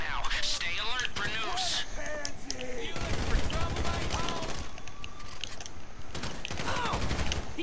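Bursts of rapid video game gunfire crackle during a casino heist, with volleys layered over mechanical clanks and creaks, while players talk over the action.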